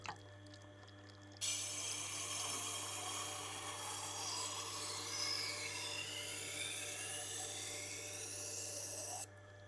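A knife sharpened on a Tormek stone gives a steady grinding hiss that starts abruptly, holds for about eight seconds and cuts off, above a constant low motor hum.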